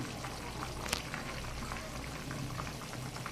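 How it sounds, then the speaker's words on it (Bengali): A pot of hilsa fish curry with potato and eggplant bubbles at a steady simmer, close and quiet, with a dense, continuous patter of small pops and gurgles. "দেখুন ঝোলটা কত সুন্দর ফুটতেছে, আরও বেশ কিছু সময় ফুটবে"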